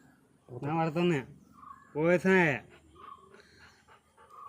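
A big dog gives two drawn-out, whining yelps about a second apart, close by, with quiet background noise between them.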